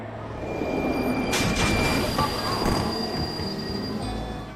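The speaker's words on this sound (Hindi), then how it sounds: "इस लाइन पर प्रॉब्लम की वजह से ये मेट्रो अभी रुक जाएगी।" A metro train grinding along the line and braking to a halt, wheels squealing sharply over a steady rumbling roar, loud and close with no voices.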